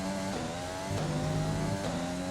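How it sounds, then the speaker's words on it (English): F1 2020 race car engine droning steadily at high speed on the Silverstone straight, a flat, unchanging buzzing whine with a brief dip in pitch partway through. "listen to the engine. It just sounds flat, doesn't it?"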